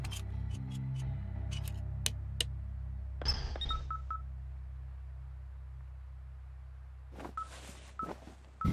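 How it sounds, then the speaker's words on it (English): Electronic beeps chirp in short bursts over a low steady hum, with a few sharp clicks and tones scattered irregularly through the quiet. "this thing is losing its mind, beeping like crazy"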